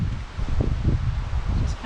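Wind gusts steadily through a garden in early April, a soft broadband rustle with brief swells, close to the microphone and without voices.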